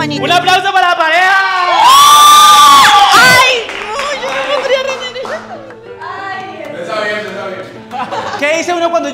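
An audience cheers, whoops and claps for a couple on a blind-date show, with a loud burst of shouting in the middle and excited voices carrying on around it.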